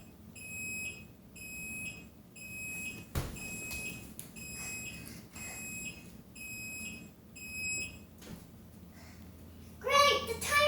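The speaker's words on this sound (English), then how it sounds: "Great, the timer dinged." A kitchen timer rings in a steady series of high, evenly spaced beep bursts while baking muffins, fairly faint under light background noise, with a voice briefly at the end.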